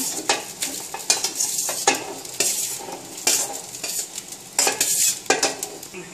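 A spoon scrapes and clanks against a pan in quick, repeated strokes, about ten in all, as cooled cooked rice is stirred into roasted coconut, with a light sizzle underneath.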